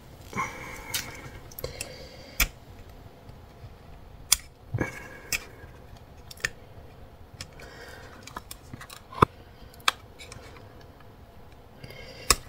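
Scissors cutting paper for a scrapbooking project, a series of sharp, close snips spaced irregularly over a quiet background, with soft handling noises between cuts.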